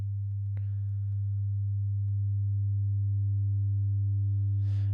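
A steady low sine tone hums throughout with a faint upper harmonic line of odd harmonics added by distortion, joined by a brief click near the start and a soft hiss at the end.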